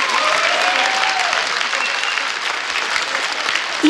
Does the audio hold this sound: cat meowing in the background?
no